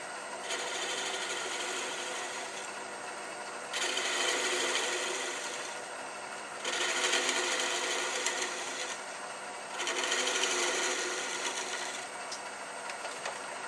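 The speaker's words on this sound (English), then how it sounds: "I'm going to get rid of bump with this little fingernail gouge" A small fingernail gouge takes gentle cuts on a wooden egg spinning on a lathe, giving a steady rasping, whirring scrape that comes in four long passes with brief quieter gaps between them.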